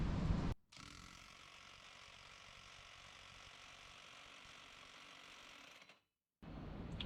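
A 110-volt Bauer power tool from Harbor Freight runs with a steady mechanical whine and rattle, starting after a loud burst, then stopping abruptly before the noise resumes.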